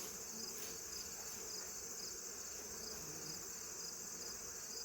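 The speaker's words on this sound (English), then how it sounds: "I have a little ball of bees right here." Honeybees swarm in a small ball while hives are being condensed, a soft, steady buzzing drone that stays faint and even, with no talk over it.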